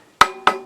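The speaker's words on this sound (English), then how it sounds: "Slight tap" Three light, sharp taps on wooden boards clamped together for a charcuterie serving board, close and distinct, spaced unevenly within a fraction of a second.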